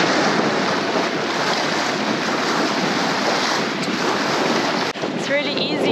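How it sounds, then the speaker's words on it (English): Waves and outgoing tidal water rush through a channel beside a sailboat in rough South Pacific weather, a loud continuous broadband roar with heavy wind buffeting the microphone throughout. "It's really easy to see the outgoing tide, all the waters rushing towards us through the channel that we're trying to enter now."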